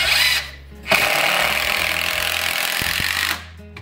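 A power drill whirs loudly and steadily for several seconds, driving screws into metal studs while framing a wet bar, with a brief pause and restart near the start and a couple of clicks near the end.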